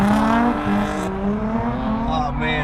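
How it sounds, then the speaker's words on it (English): Cars drifting at a car show held on a drift track, with a loud, sustained engine drone and rising revs close by and a squealing edge, while people talk over it. "They got some drifting going on right now."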